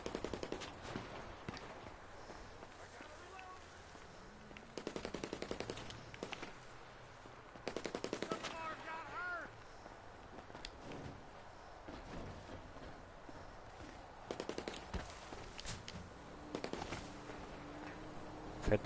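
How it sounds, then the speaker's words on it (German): Gunfire in GTA 5 Online as enemies shoot at the player, with repeated bursts and rapid shots over a steady game soundscape and sharper cracks scattered throughout, no speech. "Fette Arschlöcher einfach schießen auf mir."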